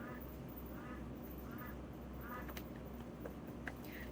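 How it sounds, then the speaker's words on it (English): A pet duck quacks in repeated, moderately faint bursts indoors over a steady background hum, with light talking in the room. "As my duck goes crazy."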